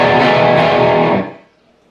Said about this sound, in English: they come back in with the chug about 8 times